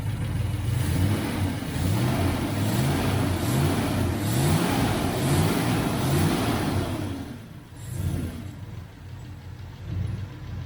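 Engine of a 1971 Triumph Stag with Stromberg carburettors, carb trouble, held at raised revs with a steady rough drone and slight surging, then dipping and blipping as it settles toward idle.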